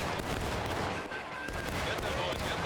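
Massed musket fire in a War of Rights East Woods skirmish, a dense continuous crackle of many overlapping shots under a charging crowd of players, with no clear gaps across the whole stretch.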